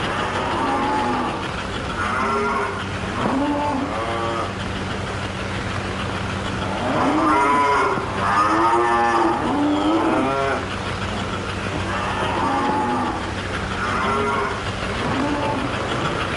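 Cattle moo repeatedly in loud, drawn-out calls while being loaded onto a railroad car for delivery, with a steady low rumble underneath and several overlapping bellows.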